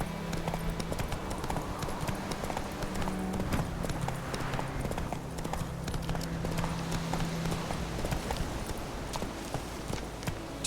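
Roach the horse galloping in The Witcher 3: Wild Hunt, a fast, even clip-clop of hooves drumming continuously and close, with no break in the rhythm.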